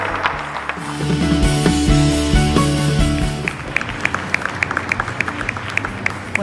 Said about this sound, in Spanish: démonos un aplauso muy fuerte.